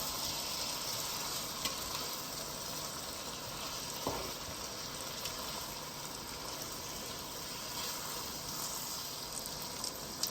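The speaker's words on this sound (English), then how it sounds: "I'm going to introduce our dodo, fried yellow plantains." Fried yellow plantains (dodo) sizzling in a simmering Nigerian pepper sauce for gizdodo, a steady dense crackling fry with faint stirring bumps throughout, close and continuous without talk.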